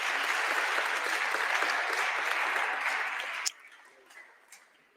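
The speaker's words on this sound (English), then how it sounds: "you can applaud yourselves" A film festival award ceremony audience breaks into loud, sustained applause that stops abruptly after a few seconds, leaving a few faint scattered claps and room noise.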